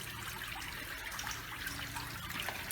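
Water trickles and splashes steadily down a small artificial waterfall in a home garden, a continuous close, even wash of sound with no voices.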